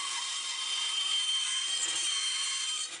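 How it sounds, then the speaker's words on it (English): Cutting the rough circle around a gear template glued to the stock makes a steady, close, hissing rasp that runs without a break before tailing off. "Next, we cut out the approximate shape of the circle around the gear template."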